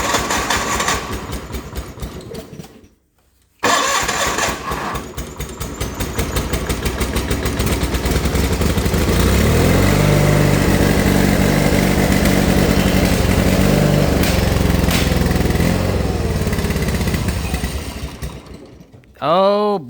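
Hard cold start on a John Deere 420 gasoline tractor that burns lots of oil: cranking, a brief stall, then the engine catches and runs loud and rough for many seconds before cutting out, with voices talking over it.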